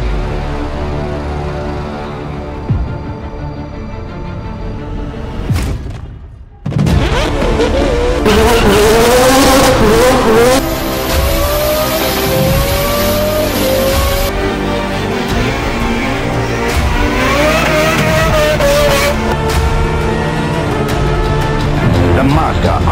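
A Mazda RX-7 sports car from the 1990s revs hard, and its loud engine note climbs and falls in repeated sweeps. There is a short lull near the start, then sustained high-volume revving.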